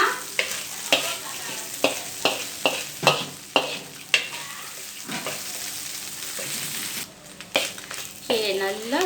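Prawn puttu ingredients are dry-roasted in a pan with a spatula. There are repeated scraping, stirring strokes in an uneven rhythm, a soft sizzle, and a faint voice near the end.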